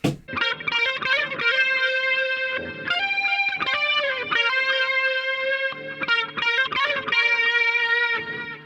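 An electric guitar plays through Logic's fuzz vibe preset with a fuzzy, wavering vibe effect, held distorted chords and short phrases ringing out with a warbling, swirling tone.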